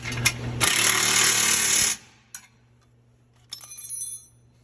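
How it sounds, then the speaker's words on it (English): A ratchet or power tool tightens a nut on an LS engine mounting bracket in a short loud burst lasting about two seconds, then quieter clicks and a brief second rattling burst follow, with a steady low hum underneath. "again I'm gonna tighten this one"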